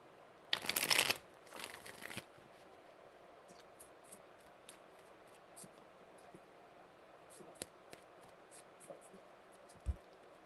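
Tarot cards riffle in two quick, crisp shuffling bursts at the start, followed by quieter scattered card taps and slides, with a soft thump near the end.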